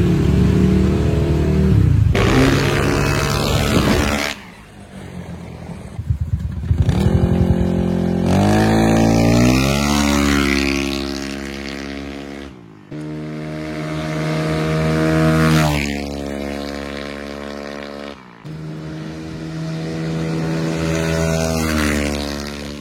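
A Honda Vario 150 scooter engine with a 59 mm piston runs up and down through its revs, loud and close, with the throttle rising, easing off and climbing again.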